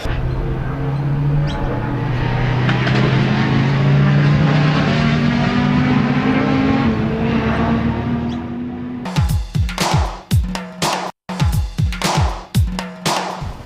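V8 Supercars race at Sandown, their engines droning and shifting pitch as cars pass by. Sharp, choppy bursts of revving and gear changes from cars close by follow.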